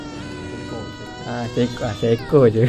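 A person's voice imitates a single cat meowing, giving a few wavering, drawn-out cries just after some brief speech.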